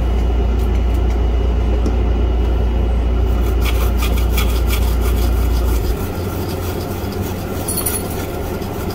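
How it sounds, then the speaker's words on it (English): Steady close scrubbing of a Commodore 128 power supply casing wiped with alcohol, a continuous rasping rub that runs throughout and eases slightly in level after about six seconds, with no talk. "Figured if nothing else, we scrub off our marker marks."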